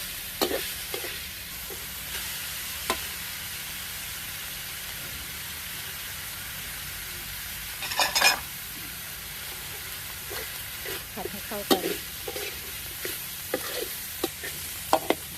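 Pork and salted mustard greens being stir-fried in a hot pan, a steady sizzle with scraping stirs and clatters of the spatula, close and alone.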